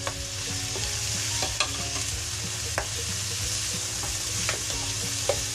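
Ground pork and tomato sizzle steadily in a pan while a utensil stirs through them, with a few sharper scrapes and clinks against the pan standing out from the continuous frying hiss.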